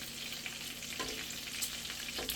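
Bacon sizzles steadily in a pan for a double bacon cheeseburger, with a soft, constant crackle and occasional small pops, quiet and alone.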